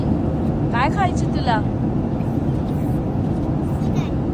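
A steady, low jet-engine roar fills the airliner cabin throughout, on a Mumbai to Melbourne flight, with people talking briefly over the constant drone.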